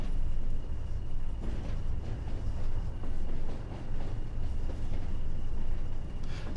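Two Class 20 diesel locomotives double heading a train in Train Sim World 2, a steady low rumbling engine drone with rolling rail noise that swells and eases, heard alone without talk.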